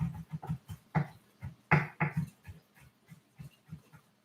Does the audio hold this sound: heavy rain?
no